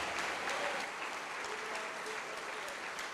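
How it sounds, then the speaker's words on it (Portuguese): Applause during a church service, a steady wash of many hands clapping, heard from a distance and fairly faint, with some voices mixed in. "Vamos aplaudir ao Senhor Jesus."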